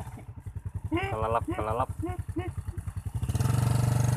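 A motorcycle engine chugs along at a steady putter while being ridden on a rough rural road during a frog-hunting trip, with someone talking over it and the engine rising to a louder, faster drone at the end.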